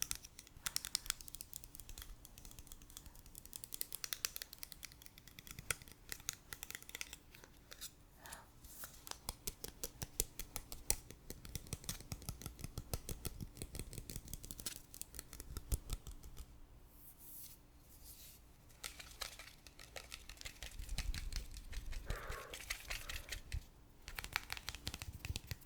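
Knives handled one after another, one blade giving a lighter, plastic-like clatter, with close, soft metallic scrapes, taps and rustles running steadily throughout without talk.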